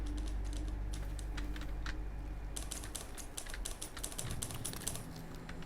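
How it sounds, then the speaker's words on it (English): Keys clatter steadily on a keyboard in Dishonored 2, a quick, close run of clicks that pauses briefly and then resumes in a denser burst over a low ambient hum. "Wait, someone's typing."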